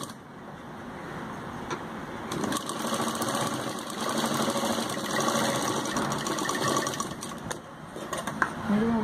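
A sewing machine stitches a kameez, a steady whirring hum running throughout at fair loudness with faint background noise.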